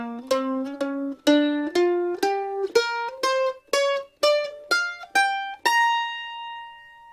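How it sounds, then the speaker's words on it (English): Mandolin playing a blues scale, the minor pentatonic with two extra notes, as a run of about eleven crisp picked notes rising at a steady pace, the last one left ringing, close and clear with nothing else present. "The third scale is the blues scale"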